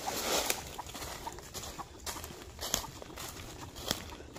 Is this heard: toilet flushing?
no